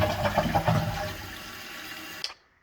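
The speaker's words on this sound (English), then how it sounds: "You can give yourself some test flushes." An American Standard toilet test-flushing after a flapper repair, a loud rushing swirl of water that gradually thins into a quieter trickle and refill before ending abruptly.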